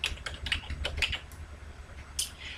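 Quick, light keystrokes on a computer keyboard type a short custom view name, clicking in a brief uneven run followed by a pause and a final tap, close and fairly quiet.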